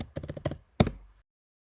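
A burst of computer keyboard key presses entering a terminal command, five or six quick close taps followed by a single firmer keystroke, then silence.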